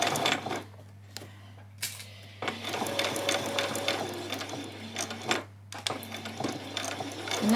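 A sewing machine stitches ruffles for a spring outfit, its motor running in steady close bursts with brief pauses between seams and a low hum underneath.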